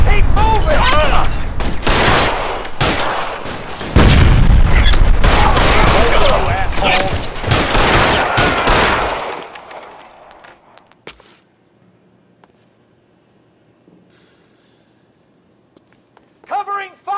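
Dense bursts of gunfire from a shootout in the video game L.A. Noire crackle loudly for about nine seconds, with shouting voices mixed in, then the scene falls almost silent before a brief voice returns at the end.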